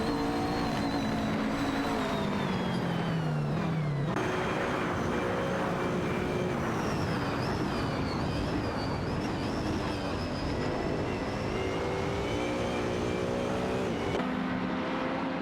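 Audi R8 LMS Ultra GT3 race cars scream in a racing video game, engines rising and falling through gear changes in a loud, continuous drone.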